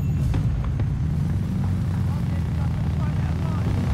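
Helicopter in the video game Battlefield Bad Company 2, a steady low rotor and engine drone that holds loud and close throughout, with game effects and voice chatter faintly over it.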